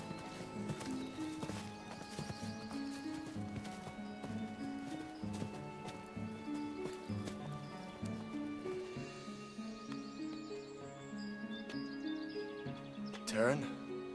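Horses clip-clopping at a walk with occasional whinnies on a farm in a dramatic scene, the hoof beats steady and moderately near beneath background music and voices, ending in a short sharp sound.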